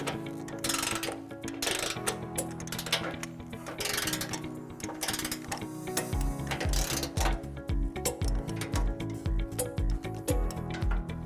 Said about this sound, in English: Now we're going to tighten and torque all of our remaining nuts to the manufacturer specification